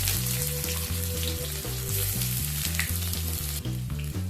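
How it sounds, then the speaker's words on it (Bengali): Sliced onion dropped into hot oil with cardamom and a cinnamon stick, frying with a loud, dense, continuous sizzle up close, a steady crackling hiss with some stirring and no voices. "ফোড়ন হয়ে গেলে এর মধ্যে একটা মিডিয়াম সাইজের স্লাইস করে কেটে রাখা পেঁয়াজ দিয়ে দিচ্ছি।"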